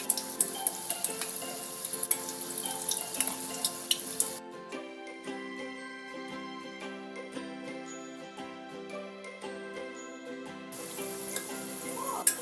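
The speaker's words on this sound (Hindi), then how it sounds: "इसी तरीके से हम सारे फ्राई कर लेंगे," Thekua, the wheat-flour biscuits, bubble in hot oil over a low flame, a faint steady crackle heard through most of the stretch, with music in the background for long parts.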